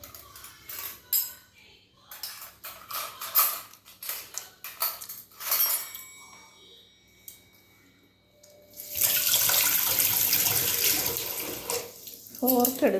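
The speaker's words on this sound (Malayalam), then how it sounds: "വെള്ളം ഒഴിക്കാം." Tap water gushes steadily into a kitchen sink for several seconds, loud and continuous, following a stretch of people talking and faint clinks of cutlery and dishes.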